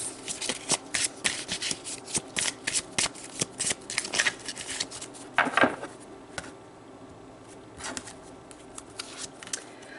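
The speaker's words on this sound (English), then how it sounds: "So let's pull a card to get some advice." Tarot cards being shuffled and drawn by hand, with a run of quick, crisp riffling flutters and soft card slaps, close up and irregular, followed by a brief pause and a few lighter taps.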